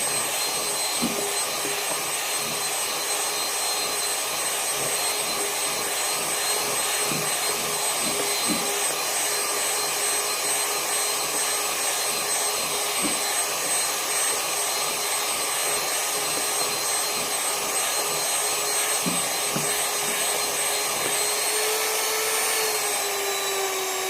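An electric grinder churns lentil batter for bori with a continuous, even motor whine and hum, close and unbroken for about twenty-four seconds, with occasional faint knocks underneath.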